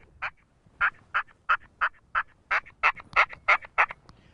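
A hunter's turkey call worked while walking through woods, producing a rapid series of about a dozen sharp yelping notes in an even rhythm, close and clear over quiet background.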